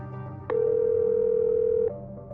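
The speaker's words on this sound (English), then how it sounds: "taking out my phone and dialing" A steady telephone tone sounds as a phone is dialed, holding loud and even for about a second and a half, with faint background hum before and after.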